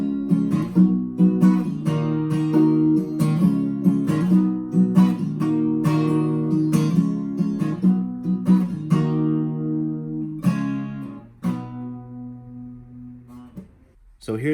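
Acoustic guitar chords strummed in a steady rhythm, a song's chorus progression played in reverse order, ringing clearly up close with a brief pause and one last chord near the end.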